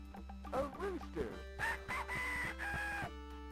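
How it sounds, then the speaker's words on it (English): A rooster crows in a farm video game, its drawn-out call rising and falling at moderate loudness while a person talks over it. "Oh boy, a rooster."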